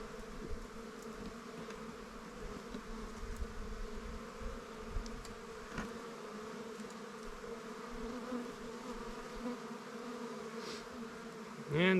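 Honeybees hum steadily in an opened nuc hive as frames of young bees and brood are checked. The buzzing is close and continuous, with individual bees droning past now and then.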